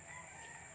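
Rooster crowing among farm chickens on a morning after rain, a single sustained call heard up close and moderately loud with no voices present.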